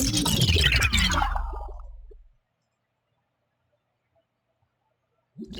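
Designed wet, liquid sci-fi movement effect: a dense gurgling, squelching burst that slides downward and fades over about two seconds, then silence before a short new onset at the end.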